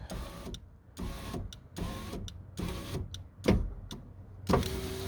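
An electric power window motor in the door of a Renault Megane 2, just repaired, whirs in repeated short bursts with brief pauses between runs, close and fairly loud with no talking.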